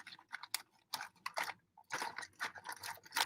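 Crunchy food being chewed close up, a run of loud crisp crunches and bites in irregular bursts with short pauses between, heard alone without talking.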